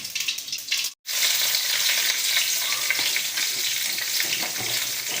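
Okra stir-fries in a pan for a home-cooked poriyal, giving a close, steady sizzle with crackling, broken by one brief pause.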